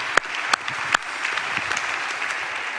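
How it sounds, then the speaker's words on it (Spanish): An audience at a wine tasting applauds: a few sharp claps up front, then a brief, moderate patter of clapping from a small crowd that quickly thins out. "Un aplauso, Jorge"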